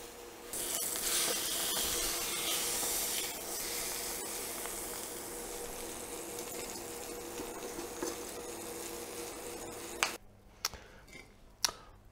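Chicken legs fry in a pan over medium heat, giving a steady close sizzle for about ten seconds. A few sharp clicks and knocks follow as the sizzling drops away.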